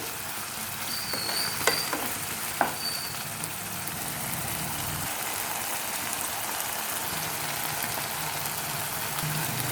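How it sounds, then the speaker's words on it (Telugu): Mutton and chana dal fry in oil in a pan, giving a steady, moderately loud broadband sizzle with a few sharp clinks and scrapes of stirring early on. "మాడకుండగా తిప్పుకుంటూ వేయించుకోవాలి"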